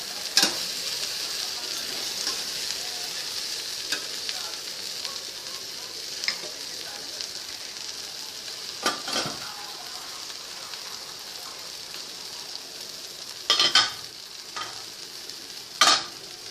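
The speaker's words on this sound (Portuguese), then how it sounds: "Tô deixando fritar um pouquinho." Okra fries in a pan, giving a soft continuous sizzle. Occasional scraping stirs and clinks of the utensil break in, with a few louder knocks near the end.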